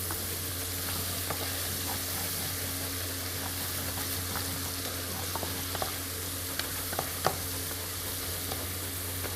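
Steady sizzling of chicken sautéing in a pan, a constant hiss with occasional small pops and crackles, no voices.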